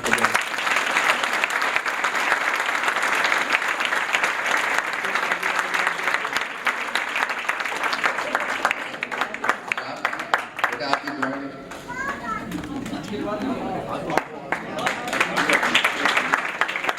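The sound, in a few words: audience applause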